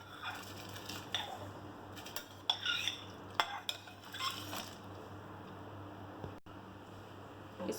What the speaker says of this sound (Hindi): इसको चला देंगे। अगर हम चलाएंगे नहीं तो ये एक दूसरे से चिपक जाएंगे चावल